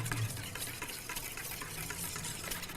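Eggs are stirred in a pan over gentle heat, heard as a continuous soft scraping and swishing with a faint sizzle underneath. The sound stays close and even, with no voices.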